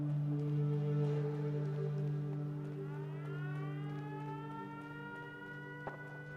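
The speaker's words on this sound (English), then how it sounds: "I hear more rockets and sirens going off." Sirens in the video game Fallout wail with a long, rising and falling tone, joined midway by a second siren climbing in pitch, all heard at a moderate distance without talk.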